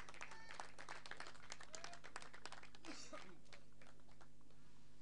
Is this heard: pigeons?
no